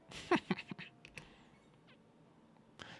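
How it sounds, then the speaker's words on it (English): A cartoon cat at a sushi restaurant in the video game Dave the Diver gives a quick cluster of short meows and chirps, then a few faint mews over quiet background. "We keep a cat here at Bancho Sushi."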